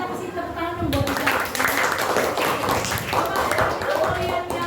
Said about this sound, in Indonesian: kita pasti tepuk tangan dong buat kita